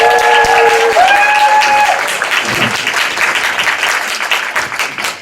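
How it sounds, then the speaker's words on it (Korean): An audience at a business seminar welcomes the speaker with loud, sustained applause. A brief tonal ringing sits over the clapping at first, then the many hands carry on alone and ease slightly toward the end. "큰 박수 부탁드릴게요"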